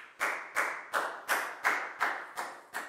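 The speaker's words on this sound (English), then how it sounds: "High five and a big round of applause for Nadia" Children in a Year 4 classroom maths lesson applaud a student with eight steady, evenly spaced claps in unison, close and crisp, with no talking.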